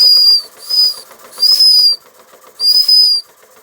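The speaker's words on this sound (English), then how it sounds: "These old things seem to have nice whistles." An old Marklin 4112/14 toy steam engine blows its whistle in repeated loud, shrill bursts, four blasts with a steady hissing between them and no talk.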